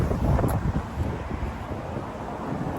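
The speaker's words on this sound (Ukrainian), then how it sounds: "реально вітер" Wind gusts buffet the microphone in low, rumbling bursts, strongest at the start and then settling into a steadier blustery roar.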